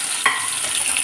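Onions, dried red chillies and mustard seeds sizzle and fry in hot oil for a Tamil coconut chickpea curry, a steady close crackle with one brief stir-scrape.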